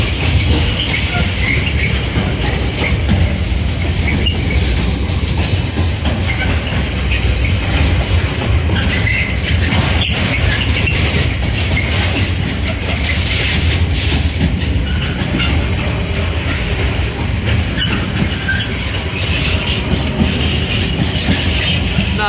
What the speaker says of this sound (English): I'll keep the eye focused on this freight train.